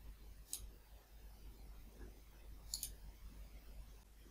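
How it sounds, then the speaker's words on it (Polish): Two crisp computer mouse double-clicks, about two seconds apart, made while working in real-estate floor plan and visualization software. They sound quiet and close over faint background hiss, with no talking. "Klikam dwukrotnie nasze łóżko"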